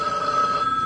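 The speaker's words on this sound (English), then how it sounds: "Phone." A telephone rings with a single steady electronic bell tone, fairly faint and brief, with no voices over it.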